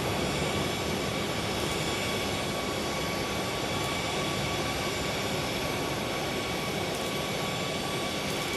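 British Airways jet airliner passing at Sky Harbor airport during a storm, heard as a steady, moderately distant broadband engine roar that holds evenly throughout with no talking.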